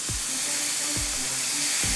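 Peanuts with pepper powder frying in a pan for spicy masala peanuts, giving a steady close sizzle with a few soft stirring scrapes.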